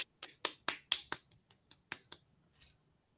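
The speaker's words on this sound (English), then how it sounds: "Let's please all unmute ourselves so that we can clap together." Sparse claps after an online talk, a dozen or so sharp separate hand claps over three seconds, thin and somewhat faint, as if a few people clap through their own microphones.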